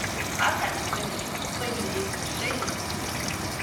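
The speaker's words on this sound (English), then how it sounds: "You can hear that water filling up." Water fills a Speed Queen top load washer during its rinse cycle, a steady rushing and trickling wash of noise that continues throughout.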